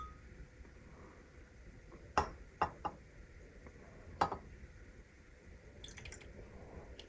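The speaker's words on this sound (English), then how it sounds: "And then soy sauce. I'm gonna put 2 in here." Soy sauce poured by the tablespoon into a bowl while making Korean fried rice, giving a few brief, soft liquid drips and splashes in a quiet room.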